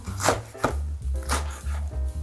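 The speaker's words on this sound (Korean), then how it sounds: "먹기 좋은 크기로 듬성듬성 썰어줍니다" A knife roughly cuts green onions (scallions) on a cutting board into bite-size pieces: several distinct, fairly loud chops in an uneven rhythm, close up, with no talking.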